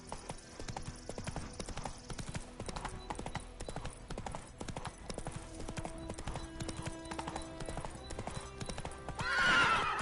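In The Witcher 3 video game, a horse gallops with steady, rapid hoofbeat clip-clops throughout, over game music and ambience, with a whinny near the end.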